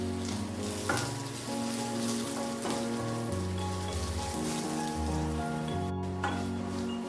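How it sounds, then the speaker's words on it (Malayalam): Grated coconut roasts with curry leaves in a pan, for a pumpkin and cowpea erissery, hissing in a dense, rain-like sizzle broken by repeated stirring scrapes and clicks of a spoon. "കണ്ടോ തേങ്ങ നല്ലപോലെ മൂത്ത് വരുന്നുണ്ട്"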